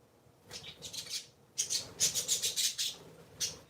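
Three pet parakeets chirping in the morning, rapid bright chirps in two clustered bursts with a brief final call, close and fairly loud with no talking.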